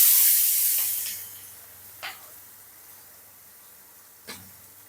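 Chopped onions hit hot oil in a kadai after fish has been fried, giving a loud sizzling hiss that fades within about a second into a soft, steady fry, with two brief clicks of utensils.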